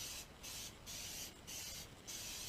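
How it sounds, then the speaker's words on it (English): Cooking spray hisses onto a baking pan for banana bread in four short bursts separated by brief pauses, close and quiet. "spray my pan"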